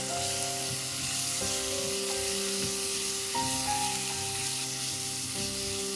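About 100 grams of chicken mince frying in a pan gives a steady, close sizzle throughout, with soft music playing underneath.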